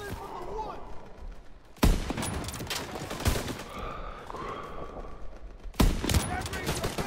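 Gunfire in the Call of Duty WWII campaign, with a couple of sharp loud shots standing out against continuous battle noise and scattered firing, while a player talks throughout.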